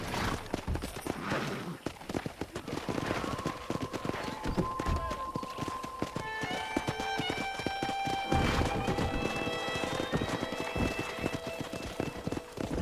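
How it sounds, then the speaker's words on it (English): Wild horses gallop in Red Dead Redemption, a steady run of hoof clip-clops with whinnies and a bright musical score rising over them, and voices now and then underneath. "That ranch hand said there's a pack of wild horses nearby."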